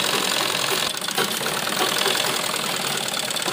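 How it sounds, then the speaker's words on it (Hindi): A sewing machine running continuously while stitching the fitting seam on a school uniform, a dense steady mechanical whir with a brief dip near one second, loud and close. "की सिलाई लगाएंगे इसमें।"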